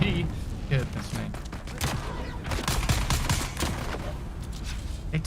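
Gunfire in Dune: Awakening, with rapid, loud bursts and shots crackling in clusters close by amid a busy combat din, while players talk over it.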